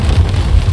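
Heavy monsoon rain falls in a Konkan village during flooding, a loud, steady, dense roar of downpour with deep low rumble and no voices.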